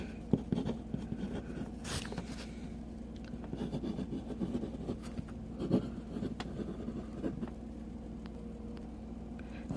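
A Sheaffer Viewpoint calligraphy fountain pen with a very broad nib writes on paper. Close, scratchy strokes and small taps run for about ten seconds over a steady low background hum, with no talking.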